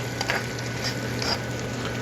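Chopped green and white onion frying in a pan, a steady bright sizzle with a low hum underneath, close and continuous, no voices.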